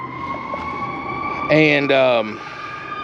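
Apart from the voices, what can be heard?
ambulance or fire truck siren passing by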